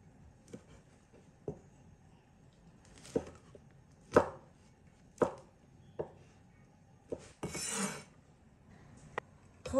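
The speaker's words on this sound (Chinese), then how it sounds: "洗干净的红枣切成小瓣儿" Red dates are chopped into small pieces on a board, giving about a dozen separate knife thuds at uneven intervals, close and clear against a quiet background, with one brief scraping sweep near the end.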